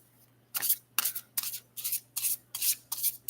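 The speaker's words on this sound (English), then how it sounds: "it's a harder shuffle for me that way." A deck of tarot cards is shuffled by hand in a steady run of about eight crisp riffling bursts, close and fairly quiet over a faint low hum.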